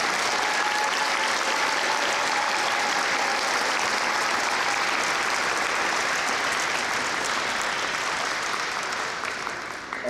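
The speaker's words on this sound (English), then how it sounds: "Please give the teachers a round of applause if they're watching online." An audience at a school NJHS ceremony applauds the teachers with sustained, even clapping that fills the room for about ten seconds before starting to fade.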